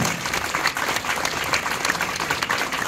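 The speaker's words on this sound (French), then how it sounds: "on peut applaudir" An audience at the Disneyland Paris inauguration of deco by Disney applauds steadily. The dense clapping runs evenly throughout, with no voice over it.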